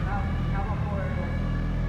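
A long-stored Mitsubishi Evo 1 barn find fires up, giving a loud, steady low engine rumble close by throughout, with a voice over it.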